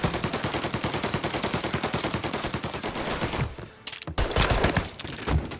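Rapid shotgun and other gunfire in the video game Mafia Definitive Edition, a dense loud volley of repeated blasts that briefly drops out before more heavy shots resume.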